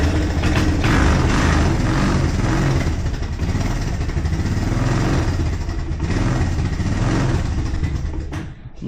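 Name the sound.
refurbished 4 wheeler (ATV) engine starting and running cold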